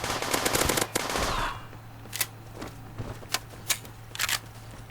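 Rapid automatic gunfire from the mobile shooter game Forward Assault crackles loudly in a dense burst, then thins into scattered short shots and clicks.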